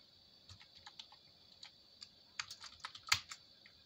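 Password being typed on a computer keyboard: scattered soft key clicks, sparse at first and then a quicker cluster with one sharper tap near the end, quiet and close in an otherwise silent room.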